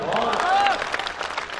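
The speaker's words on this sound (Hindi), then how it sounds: "आपकी कमजोर तालियां इस संकल्प को कमजोर बनाएंगे।" Applause rises from the audience at an outdoor Hindi poetry gathering, a brief burst of clapping and crowd noise mixed with a voice, fading quickly.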